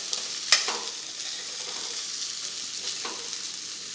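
Fresh raw corn kernels fry in a pan with a soft continuous sizzle, broken by two distinct scraping stirs of a spoon, close and fairly quiet with no talking.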